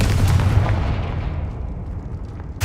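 A Confringo fire spell explodes in Hogwarts Legacy, a loud rumbling blast with deep low-end body that decays steadily over about two seconds, ending with a brief sharp crackle.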